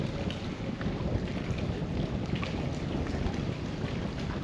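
Wind blows steadily outdoors at a fishing spot, buffeting the microphone with a constant low rumbling roar throughout, no voices heard.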